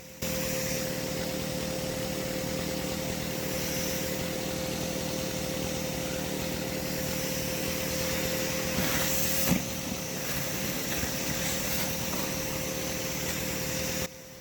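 A vacuum sucking European hornets from a massive nest inside a rotten tree cavity, a steady loud motor whine running throughout, with brief knocks and rattles near the middle as insects and debris pass through the hose.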